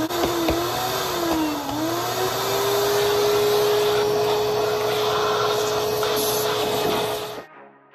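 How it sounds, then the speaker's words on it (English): A shop vacuum drawing leftover blasting media off a media-blasted car body, a loud, steady whine with a slight pitch wobble early on, running continuously for about seven seconds before cutting off abruptly. "We're going to use a combination of the vacuum and the compressed air to kind of get it lifted up and then draw it all out."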